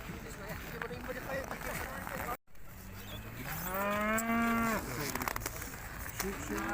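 A cow moos loudly at a livestock market in Urzhar, a long drawn-out call rising and falling in the middle, amid crowd chatter and background market noise.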